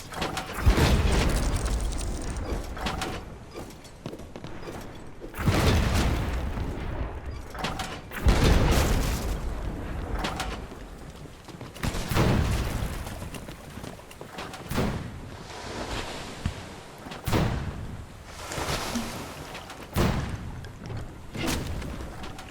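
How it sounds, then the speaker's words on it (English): Several deep booming ship cannon blasts in the video game Blazing Sails, spaced a few seconds apart, each followed by a rumbling decay, with mechanical background noise between them. "Fire the left cannon."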